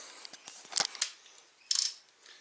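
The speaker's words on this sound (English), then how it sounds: "grab my torque wrench" A torque wrench ratchets on rod bearing bolts during an RB25DET engine build, giving quiet, close clicks followed by two brief, sharper ratcheting bursts against a near-silent background.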